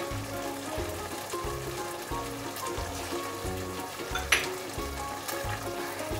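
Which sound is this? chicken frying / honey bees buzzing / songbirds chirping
chicken frying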